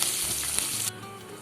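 Onion and tomato pieces fry in a pan with a steady, bright sizzle that drops off sharply near the end. A low hiss continues after it, and no one speaks.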